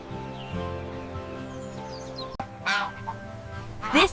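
A goose honks a few times, loud and close, over a steady tonal background of music.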